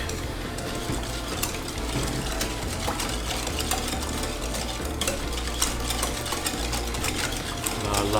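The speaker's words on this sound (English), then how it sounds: "Whisk, whisk, whisk." An electric whisk runs continuously, up close and loud, giving a steady mechanical whirring buzz with rattling, clicking texture throughout.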